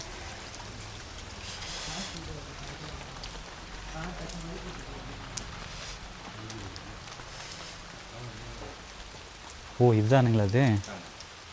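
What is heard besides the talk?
light drizzling rain outside a temple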